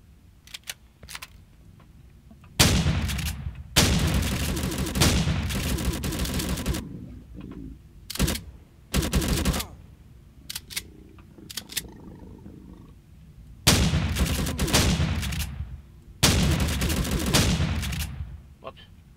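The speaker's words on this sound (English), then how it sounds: "What am I shooting the stairs out for?" Bursts of gunfire from shooting in the survival game Empyrion Galactic Survival, loud, broadband volleys of a few seconds each, separated by quieter gaps with low rumbling background.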